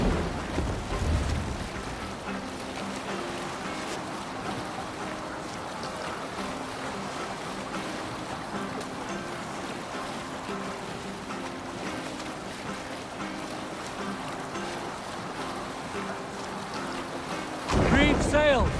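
Sailing ship riding the waves in Assassin's Creed Valhalla, a steady broadband wash of water and rushing wind holding at an even level throughout, with a louder surge of splashing near the very end.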